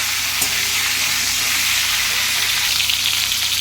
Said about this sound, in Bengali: দেখুন ফুলকপিগুলো আমার মোটামুটি ভাজা হয়ে গেছে লাল লাল, আমি এটা নামিয়ে দেবো।